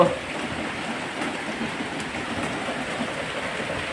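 Steady rain patters down in a dense, even hiss that holds at moderate loudness from start to finish, with no voices over it.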